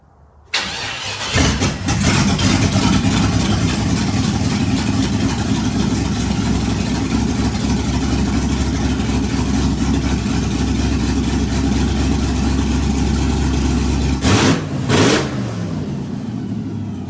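An LS-swapped Jeep Wrangler V8 fires up and settles into a loud, steady idle close by. The low rumble runs unbroken for about fourteen seconds, with a brief revving blip near the end and no talking.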